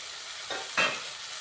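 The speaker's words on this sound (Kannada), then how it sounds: "ಇವಾಗ ಹಾಗಲಕಾಯಿ ಹಾಕ್ತೀನಿ." Bitter gourd tossed into a hot pan with garam masala and coriander for a North Karnataka palya, giving two quick sizzling bursts as it is stirred, close and fairly soft.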